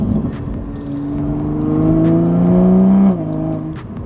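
A Toyota Supra's B58 engine revs through its exhaust, a loud close rising drone that climbs, holds, then drops off sharply as the throttle closes, with a few sharp crackles.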